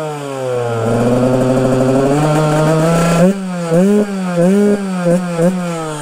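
A Husqvarna TE125 dirt bike's small engine revs up and holds, then gets several quick throttle blips, loud and close, with a buzzy, rising and falling pitch.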